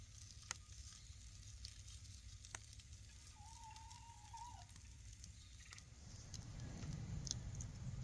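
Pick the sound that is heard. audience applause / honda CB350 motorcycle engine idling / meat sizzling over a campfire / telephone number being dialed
meat sizzling over a campfire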